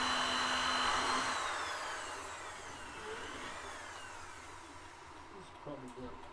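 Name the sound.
power drill with a dull bit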